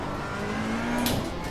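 Ferrari race car engine in the Assetto Corsa Competizione racing sim holds a steady mid-pitched drone, a brief rising rev swelling near the end, loud and continuous with no talk.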